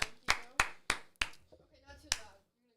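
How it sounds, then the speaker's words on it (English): A handful of sharp hand claps, about six spaced beats with a short pause near the end, sparse and dry in a quiet radio studio. "Round of applause."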